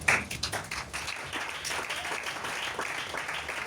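A church congregation applauding, a dense patter of many hands clapping that starts with a few sharper claps and then settles into a steady, moderately loud stream with no talking.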